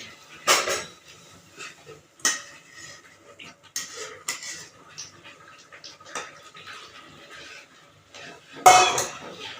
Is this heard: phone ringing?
no